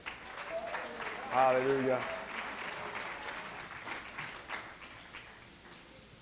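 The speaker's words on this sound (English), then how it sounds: "Give the Lord a hand clap." A church congregation claps hands together at a general session, a steady wash of applause running under a speaker's voice, swelling briefly and then thinning out toward the end.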